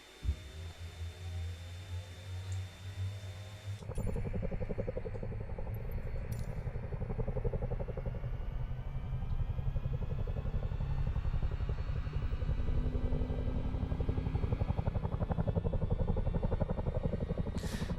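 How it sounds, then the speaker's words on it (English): Airbus H145 helicopter engine starting in Microsoft Flight Simulator, with a low idle hum that jumps into a loud, steady turbine roar and rising whine a few seconds in, continuing evenly and building slightly throughout. "Ready to start engine 1. Starting engine 1."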